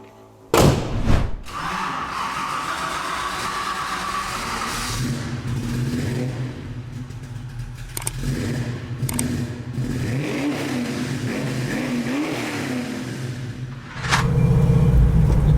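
A powerful Shelby GT500 tribute muscle car engine cranks and fires up with a loud burst, settles into a deep rumbling idle with revs, then roars louder near the end.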